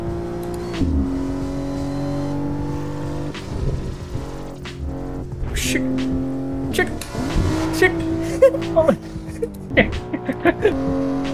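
A BMW M3 in the racing game No Hesi revs and accelerates through the gears with a sustained engine drone, showing clear pitch rises and upshift drops, and tire noise joins toward the end.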